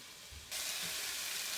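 Onions and tomatoes cook in a pan as the heat rises from low to medium, a soft hiss that suddenly grows into a brighter, louder sizzle halfway through, close and steady, with no talking.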